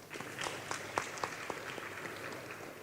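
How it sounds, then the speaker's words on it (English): Audience applause in a conference hall, with a scattered round of clapping that rises and tails off, heard faint and from a distance, with no talk over it. "Please give him a warm round of applause."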